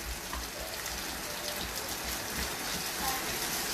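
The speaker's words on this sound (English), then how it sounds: "Now you can add the onions and saute it a little bit." Sliced onions sizzle and crackle steadily in a hot pan, a dense, even frying hiss with small popping bursts throughout, moderately close and without any voice.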